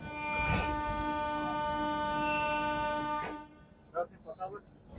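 The Howrah–New Delhi Rajdhani Express (12301) pulls out of Asansol station with a loud, sustained horn-like tone lasting about three seconds, then a few short voices break in near the end.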